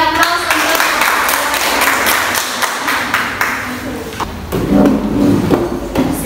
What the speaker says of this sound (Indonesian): Yuk berikan aplaus untuk